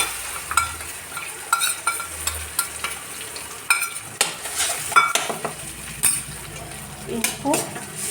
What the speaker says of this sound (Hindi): इनको भूनेंगे अच्छी तरह से। ये देखिए ये इस तरह से फ्राई हुए हैं पीसेस